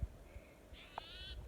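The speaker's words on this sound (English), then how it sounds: "It's a bird" A bird caws twice close by, one short call followed by a longer drawn-out caw, over faint outdoor background noise with light thumps.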